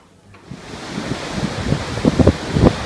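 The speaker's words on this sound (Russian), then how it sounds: "Пляж отеля." Surf washing onto the beach of the Lavanga Resort & Spa hotel in Hikkaduwa, Sri Lanka, growing from quiet into a steady roar of breaking waves, with wind rushing across the microphone.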